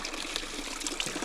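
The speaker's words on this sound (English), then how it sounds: "So about to fill these jugs up" Water pours steadily into jugs at a roadside spring in Kentucky, a continuous close splashing trickle with no talking.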